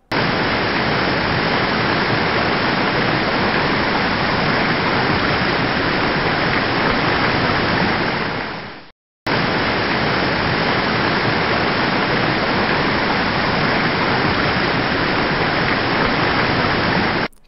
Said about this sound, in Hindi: यह सबसे बड़ा झरना है और असम में एक धार्मिक स्थल भी है। तो चलिए अब झरने का खूबसूरत नज़ारा देखते हैं।